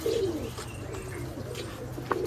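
Giribaz pigeons cooing: soft, repeated low throaty coos close by over a faint background hum.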